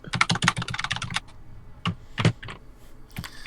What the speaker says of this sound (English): Sounds like you're doing one of those movie things where they pretend to use the keyboard, but they're just like squishing their fingers.